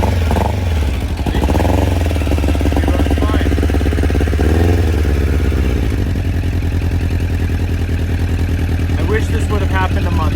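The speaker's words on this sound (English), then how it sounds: "I'm gonna start up this bike, and then I'm gonna tell you what we ended up doing." A motorcycle engine runs close by with a heavy, continuous low rumble and rattling clatter, with a voice heard over it.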